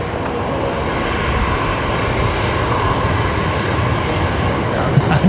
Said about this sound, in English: They're just beginning their takeoff roll.